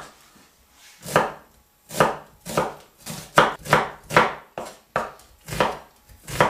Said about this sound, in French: donc maintenant on va découper nos oignons